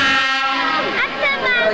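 A class 751 diesel locomotive's horn blows as the big engine approaches a turntable, a sustained harmonic blast that bends and wavers near its end, with voices talking alongside.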